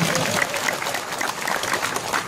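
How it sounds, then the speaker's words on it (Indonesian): An audience at a religious lecture claps steadily, a short burst of applause filling the whole moment. "Tepuk tangan dulu buat Bunda."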